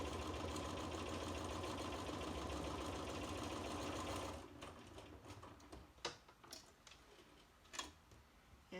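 A sewing machine stitching quilt seams on bias-cut pieces, running in a steady rapid whir for about four seconds and then stopping, followed by a few scattered handling clicks and bumps.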